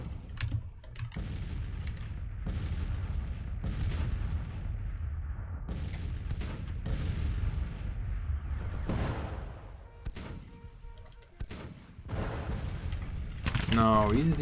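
Cannon artillery fire in the Grand Tactician Civil War strategy game, sharp booming reports scattered irregularly over a steady battlefield din, with someone talking over parts of it.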